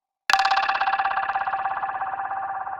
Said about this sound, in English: Then add Valhalla UberMod to turn it into this wild, springy sound that feels both electric and organic.